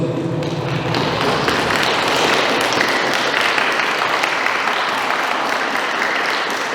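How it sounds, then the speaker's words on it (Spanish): Wedding guests applaud the newly married Oliver and Kelly, a loud, full burst of clapping with cheering mixed in that carries on steadily from start to finish. "vamos a felicitar a Oliver y Kelly, su esposo y esposa, con un fuerte voto de aplausos"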